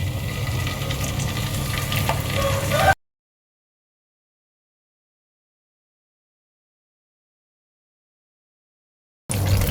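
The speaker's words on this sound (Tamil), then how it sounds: "அதில் நம்ம மேரினேட் பண்ண சிக்கன் துண்டுங்களை போட்டு ஃப்ரை பண்ணி எடுத்துக்கலாம் ஃப்ரெண்ட்ஸ்" Marinated chicken pieces frying in hot oil in a pan, a continuous crackling sizzle heard close up for a few seconds, then cut to silence and returning briefly at the end.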